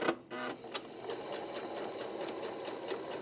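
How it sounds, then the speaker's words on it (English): A sewing machine stitches steadily along a line on quilt binding, its rapid mechanical chatter continuous and close after a brief start. "what I'm going to do is stitch on that line"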